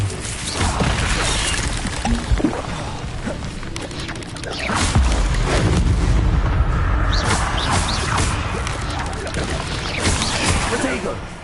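Incendio fire spell in a PS4 video game, a dense roaring burst with booming crashes and crackle layered through busy combat, loud and sustained, with someone talking over it.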